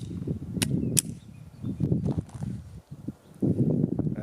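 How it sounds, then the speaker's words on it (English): Two sharp cracks of a Smith & Wesson Model 41 .22 LR pistol fired at an outdoor range, spaced under a second apart over low rumbling background noise. "Then we'll shoot the Model 41. 10 shots, 22 long rifle."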